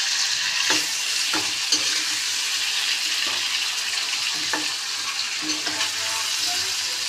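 Potato, papaya and tomato fry in a pan for a fish curry, giving a steady close sizzle with repeated scraping stir strokes throughout.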